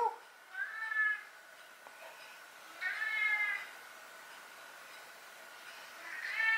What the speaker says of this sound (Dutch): dan kan hij zo zacht mekkeren